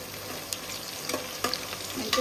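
Chopped onions fry in a pan, partly covered, on their way to golden brown: a steady close sizzle with brief stirring scrapes and clinks, and no talking.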